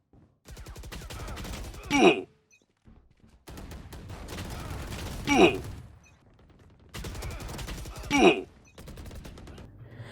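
Rapid shotgun blasts in the shooter game Valorant, fired at long range, in three long bursts of repeated close reports. Each burst ends with a strained vocal grunt, and short quiet gaps separate the bursts.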